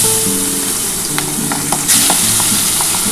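Pieces of bhola fish fry in hot oil with a constant dense sizzle, joined by a few light clinks and scrapes of a spatula, close and loud with no talking.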